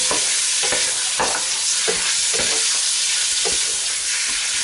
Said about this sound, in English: get that stirring around a bit